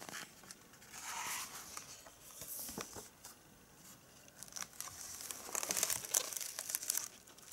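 Pages of a large art book crinkle and rustle as they are handled, producing faint, soft papery crackles with scattered louder flicks of paper throughout.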